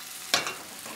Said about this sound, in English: So these are starting to fry.